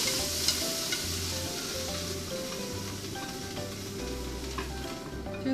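Onions stir-fry in a pan with a constant, moderate sizzle and crackle, with light scraping now and then, close and unbroken throughout.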